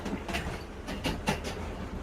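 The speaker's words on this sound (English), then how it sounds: "even with the train sounds, you can immerse yourself that much more" Train sounds playing in a VR environment: a steady rumbling rail-car roll with faint clickety-clack bursts recurring through the clip, moderately loud and with no talk over it.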